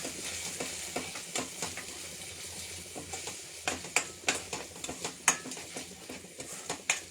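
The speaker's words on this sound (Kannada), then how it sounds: "ಒಂಚೂರು ಲೈಟಾಗಿ ಫ್ರೈ ಮಾಡಿ." Kitchen King masala is lightly fried in a pan, giving a steady low sizzle broken by repeated scraping stir strokes and light metal clinks, growing busier toward the end with no voices.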